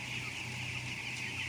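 Thirteen-day-old broiler chickens in a fully automatic closed-house farm holding about 52,000 birds cluck in a steady, dense chorus, with a constant mechanical hum from the house beneath them.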